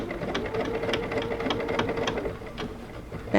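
A sewing machine runs a back stitch on a fabric bucket hat, rapid rhythmic needle clatter close up, easing briefly before the end, with no voice over it.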